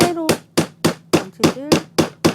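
Sharp hammer blows drive nails into a handmade solid-wood tray, about nine strikes at a steady, even pace, each one loud and close with a brief ringing decay.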